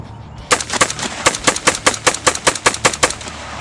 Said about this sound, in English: See some rapid fire.